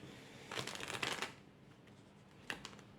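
Tarot cards are shuffled quietly for a reading, a short cluster of soft papery riffles followed by a pause and one more faint flick, all at low volume.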